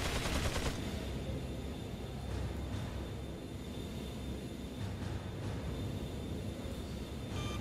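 Rapid gunfire from a robot enemy in Resident Evil 4, a continuous rattling, clattering stream of shots with a low rumbling background, a sharper burst at the start, heard without talking.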